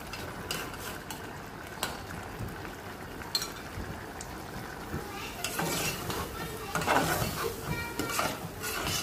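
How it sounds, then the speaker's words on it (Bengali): Beef tripe stirred and fried in hot oil in a pan, with steady sizzling and scraping of a spoon against the metal, close and continuous. "তো তেল গরম দিয়ে দিলাম, এখন তেলের মধ্যে বটগুলো দিয়ে দিব।"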